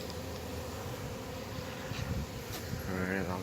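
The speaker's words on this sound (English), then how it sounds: "It's pretty relaxing actually, watching these bees fly in and out." Bees hum as they fly in and out of a painted wooden hive box in a backyard, a steady close buzzing under light wind, with a brief voice near the end.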